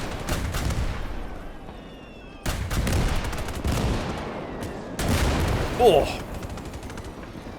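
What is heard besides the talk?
gunfire hitting a mech in a video game battle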